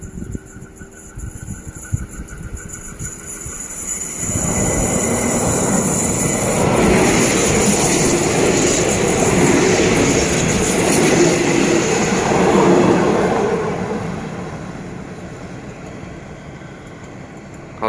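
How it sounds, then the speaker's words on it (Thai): A diesel railcar running as Ordinary train 262 toward Ratchaburi, Thailand: a steady loud engine roar and rolling wheel rumble swell in after a few seconds and hold, easing slightly near the end, with no talk. "วันนี้ใช้ดีเซลลางนะครับ"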